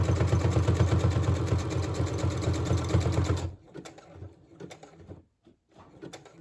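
A sewing machine stitches a fabric journal cover in a loud, steady rapid run that stops abruptly partway, followed by quieter handling noises and short clicks.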